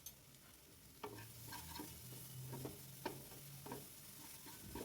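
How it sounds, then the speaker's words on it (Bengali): Ground turmeric, cumin and red chilli powder sizzling in a pan for a chicken chaap masala, with a spatula scraping and stirring at irregular intervals over a soft steady frying hiss. "মশলাটাকে ভালো করে কষিয়ে নিচ্ছি।"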